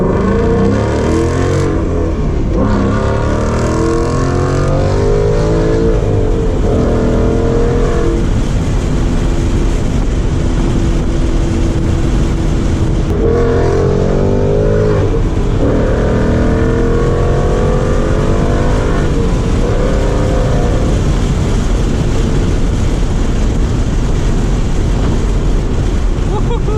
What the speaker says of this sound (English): I'm gonna go ahead and just take you through a few gears, let you kind of hear what this Mustang sounds like